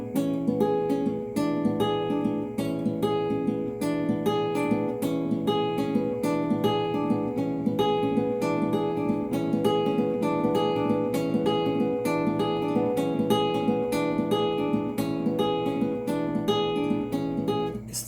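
An acoustic guitar picks a steady, even arpeggio through the chords of a song, notes ringing into one another in a continuous rolling pattern, played alone at moderate volume.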